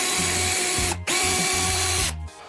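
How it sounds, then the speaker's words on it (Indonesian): A power drill bores a hole through the middle of a cut-off plastic toothbrush handle, running in two loud sustained bursts with a brief stop between them and no talking. "Bor lubang melalui tengah bagian yang dipotong."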